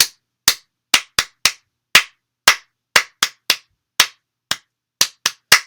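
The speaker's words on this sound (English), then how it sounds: "We're going to clap the whole word this time." Children clapping along to the Bingo song at a family storytime, a run of sharp separate claps in an uneven rhythm with silent gaps between them, close and crisp with no voices.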